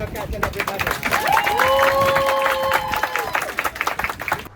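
A mangrove tour group in Langkawi applauding their boat captain: a short burst of clapping from a small crowd, close and lively, mixed with chatter and a whistle-like tone over it.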